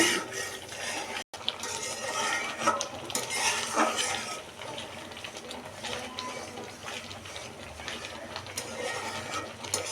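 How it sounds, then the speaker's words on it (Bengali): Thickening ripe mango mixture being stirred in a pan: a continuous scraping and clinking of a utensil against metal with a wet, sticky texture, close and steady across the whole stretch, with no voices. "আর অনরবত নাড়তে হবে আমটা এখন ঘন হয়ে আসছে"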